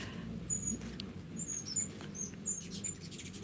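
Small birds chirp at a feeder filled with red food-colored nectar mix, giving faint, scattered high-pitched tweets over a steady low background rumble.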